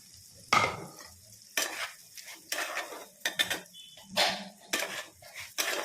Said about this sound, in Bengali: আগে থেকে ম্যারিনেট করা চালটা দিয়ে দেবো